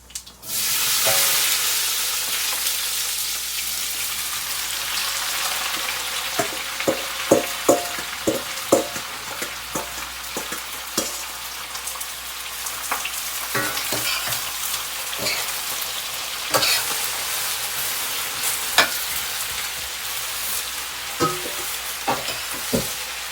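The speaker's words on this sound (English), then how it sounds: "Now I'm adding onions." Chopped onions sizzle and fry in hot oil in a pan with cinnamon stick and cardamom for a British Indian restaurant-style base gravy, a steady close hiss broken by scattered sharp crackles and stirring clatter, no talking.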